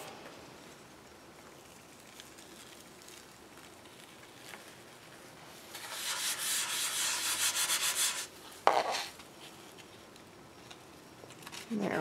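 Paper rubbed by hand against a gel printing plate, a soft dry scuffing that swells for a couple of seconds, then a sharp lift and smaller rustles afterward.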